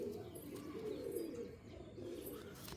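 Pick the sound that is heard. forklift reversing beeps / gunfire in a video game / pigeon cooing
pigeon cooing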